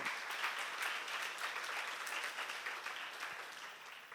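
An audience at a church seminar in Korea applauds, a steady wash of many hands clapping at moderate distance with no talk over it.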